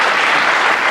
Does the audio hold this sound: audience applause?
yes